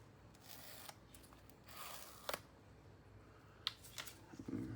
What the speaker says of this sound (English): Always a nice, satisfying peel.